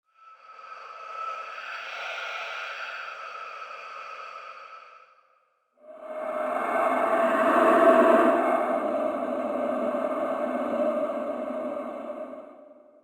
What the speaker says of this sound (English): Death whistle ambiences.